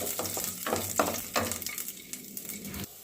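Garlic cloves fry in oil with black cumin, giving a close, steady sizzle broken by a few stirring scrapes and clicks of a utensil in the pan; no voices.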